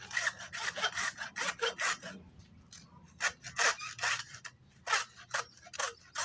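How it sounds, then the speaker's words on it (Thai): Rhythmic rasping strokes of a hand saw cutting through the firm plastic tip of a silicone sealant cartridge, in quick back-and-forth bursts with a brief pause midway, close by. "ผมจะใช้เลื่อยนะครับ เพื่อน ๆ ใช้เลื่อยเลยนะครับ ตัดตรงนี้"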